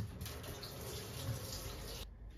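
Tap water runs steadily into a sink while cut fish is being washed, a soft, continuous splashing hiss that cuts off abruptly near the end.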